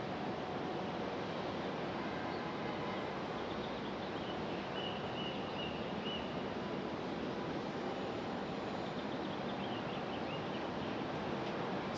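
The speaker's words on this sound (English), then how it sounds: "we do have an American 737 out at the end of the runway there" An American Airlines Boeing 737 waits at the end of a runway at Raleigh-Durham International Airport, its engines making a steady, distant broadband roar that holds unchanged throughout with no voices.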